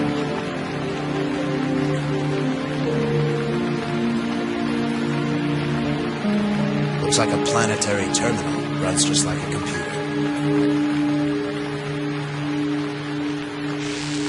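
Steady rain pattering on surfaces in the rainy sci-fi setting of the Gemini Rue adventure game, continuous under a man's speech and occasional electronic beeps.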